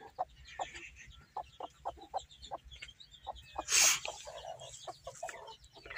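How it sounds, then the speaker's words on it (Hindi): An Aseel hen clucks in a series of short, soft, rhythmic calls close by, with a brief louder rustle or flutter midway. "असील मुर्गी है ये"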